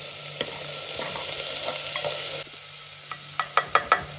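Tomato and onion with salt sizzle steadily in a pan, with scattered stirring clicks and a few sharper scrapes of a spoon toward the end.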